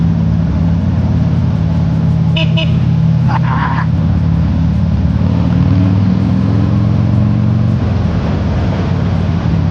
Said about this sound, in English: There's my horn